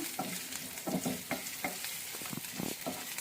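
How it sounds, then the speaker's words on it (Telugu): Paneer fries in a pan with a continuous close sizzle as a spatula scrapes and turns the pieces in short repeated strokes. "ఇలా కొంచెం ఫ్రై అయ్యే వరకు ఒక 1 మినిట్ ఇలాగా ఫ్రై చేసుకుంటూ ఉందాం."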